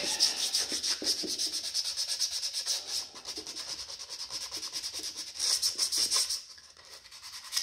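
Cast iron engine cylinder heads being sanded by hand in a workshop, a fairly quiet, rhythmic back-and-forth rasping of repeated strokes with a brief lull partway through.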